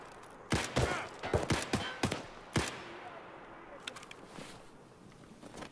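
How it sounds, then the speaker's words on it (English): Several sharp gunshot bursts in the Escape from Tarkov game, a cluster of loud cracks early on, then a few fainter distant shots, with quiet ambient noise between. "He's shooting at me."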